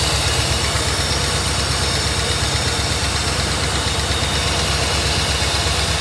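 A Mercedes 380SL engine idles steadily and loudly, dropping to a low 500 RPM as the idle speed control valve is pulsed; a continuous rumbling drone with a faint rhythmic throb runs throughout, no voices.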